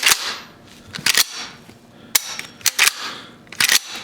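Sharp metallic clacks of a Remington 870 pump shotgun action racked back and forth, several quick double-clicks in bursts, close and crisp.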